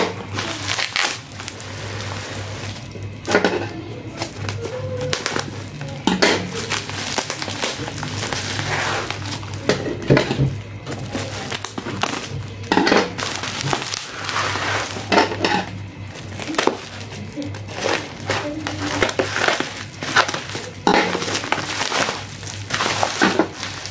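A thickly wrapped, heavy Shopee parcel holding a motorcycle engine support for a Honda Click is torn open: continuous close crinkling, crumpling and ripping of plastic packaging, with brief louder tugs throughout and no speech.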